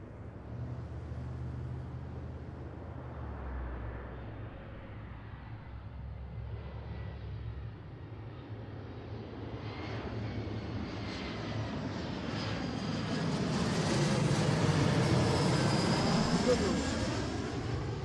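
A jet airliner in a special Go Cougs livery arriving from Medford onto runway 34L at Seattle, its engine roar building steadily from a distant rumble to a loud, broad whine as it passes close by, with faint talk underneath.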